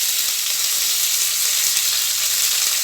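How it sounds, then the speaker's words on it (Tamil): Curry leaves hit hot oil for tempering curry leaf rice, giving a loud, steady, hissing sizzle that fills the whole moment without pause and with no voices. "இந்த டைமில் ஒரு அறுக்கு கருவேப்பிலை சேர்த்துக்கிடுவோம்"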